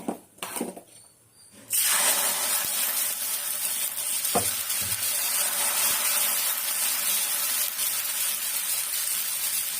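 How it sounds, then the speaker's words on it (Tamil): Onion rubbed across a hot dosa pan for Tamil home-style dosa, giving a loud, steady sizzle that starts abruptly after a few quiet handling sounds and continues without a break, with a single scrape partway through. "வெங்காயம் போட்டு தேய்ச்சோம்னா தோசையும் நல்லா வரும்."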